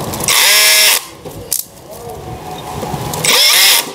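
An electric clutch screwdriver drives a long screw in two loud whirring bursts separated by a quieter stretch where the motor strains, close to the listener.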